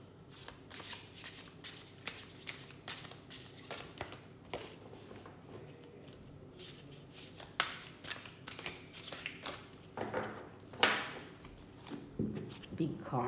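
A deck of tarot cards is riffled and shuffled repeatedly at close range, with quick papery bursts and flutters repeating in an uneven rhythm and rising to louder riffles toward the end.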